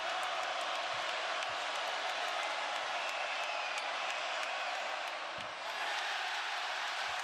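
Arena crowd at an Ohio State vs Notre Dame men's college basketball game during free throws, a steady loud roar of many voices with scattered whistles and shouts, sustained and undiminished throughout.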